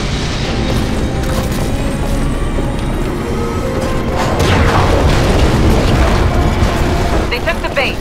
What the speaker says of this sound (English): The cannon's powering up.